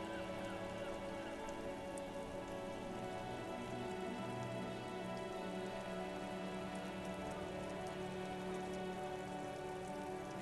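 Steady rain pouring down in the detective role-playing game Disco Elysium, a dense, unbroken hiss of falling drops with no voices, even and loud throughout.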